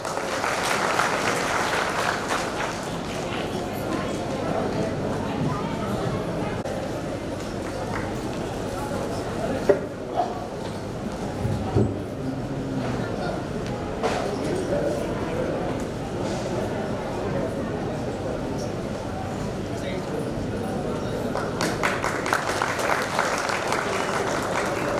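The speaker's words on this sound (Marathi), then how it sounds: "जोरदार टाळ्या झाल्या पाहिजे." A crowd applauding at a clothing shop's coupon prize event, sustained clapping throughout with faint crowd murmur underneath.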